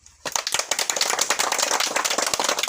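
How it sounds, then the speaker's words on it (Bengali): A crowd claps together at a ribbon-cutting inauguration of a park, loud dense applause starting abruptly after a brief quiet and carrying on steadily with sharp overlapping claps. "আমরা ফিতা কাটার সাথে সাথে সবাই একটু করতালি দিয়ে"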